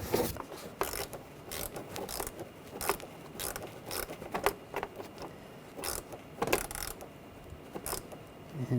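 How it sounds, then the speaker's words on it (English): Tightening a worm-gear hose clamp on an engine hose of a 2013-2019 Ford Escape during ignition coil replacement: irregular close metallic clicks, scrapes and ratcheting ticks with scattered sharper taps, with no talking. "Tighten down the worm clamp."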